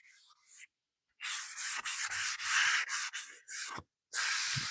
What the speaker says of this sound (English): I'm still sanding in the same direction. It's up and down motion.